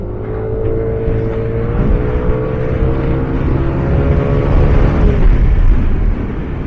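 Yamaha NMax Tech Max scooter underway, its engine droning steadily up close with a dense, continuous tone that shifts slightly in pitch as it downshifts, with no voices.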